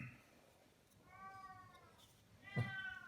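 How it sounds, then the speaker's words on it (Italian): A cat meows twice, close by, with two short harmonic calls a moment apart over a quiet room background. "Ecco, il nostro gatto."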